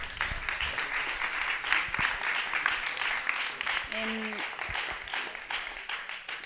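Audience applause at an awards ceremony, a steady wash of clapping from a crowd throughout, with a brief spoken syllable from a nearby voice partway through.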